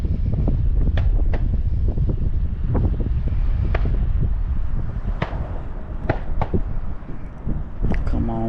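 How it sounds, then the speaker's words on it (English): Strong, steady wind roars and buffets the microphone on a bass fishing outing, a constant low rumble with sharp gusty cracks throughout and no talk. "This wind is really starting to pick up."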